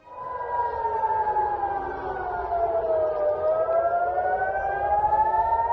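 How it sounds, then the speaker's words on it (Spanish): A wailing air raid siren in Israel sounds alone, its tone sliding slowly down and back up in a long, steady, penetrating drone. "empezaron a escucharse durante 15 minutos las sirenas antiaéreas en prácticamente todo Israel"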